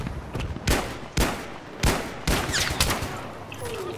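Pistol shots crack out one after another in a Battlefield 3 Scavenger match on the Markaz Monolith map. Five or six loud, evenly spaced shots ring close, with a faint metallic clink of a spent casing near the end.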